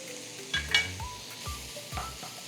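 Shiitake mushrooms, green onion, garlic and ginger stir-fried in a pan, a soft steady sizzle beneath background music, with a couple of quick utensil clinks early on.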